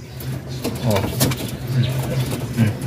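Low, rhythmic cooing from a nearby racing pigeon recovering after being injured in a race repeats throughout, with a person talking quietly underneath and some rustling.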